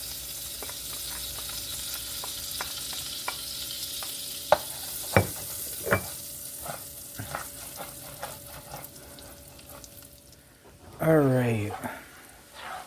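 Lemon zest being scraped into a hot pan of sizzling garlic: steady frying crackle with sharp scraping taps near the start, then a burst of running water near the end, with a voice talking over parts of it.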